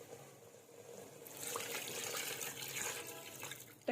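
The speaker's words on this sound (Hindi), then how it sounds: "इस स्टेज में इसके अंदर पानी ऐड करूंगी।" Water is poured into a pot of chicken curry after the oil separates, a continuous soft rushing trickle that swells after the first second and runs steadily before ending abruptly.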